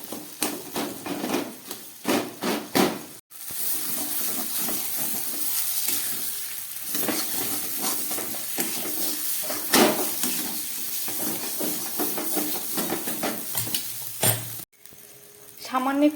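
Vegetables including carrot, seasoned with ground garam masala, sizzle and fry steadily in a pan, with repeated scraping stirs and short breaks in the hiss; no voices.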